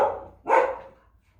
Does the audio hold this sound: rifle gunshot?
no